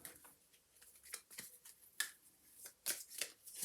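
Oracle cards being shuffled and handled, soft papery riffles and sharp flicks in irregular bursts, close and quiet, with no talking.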